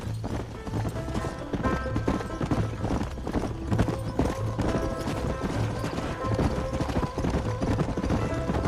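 Galloping horse hooves pound in a fast, steady rhythm while riding in Red Dead Redemption on Xbox 360, loud and continuous with a brief whinny and faint talk in the mix.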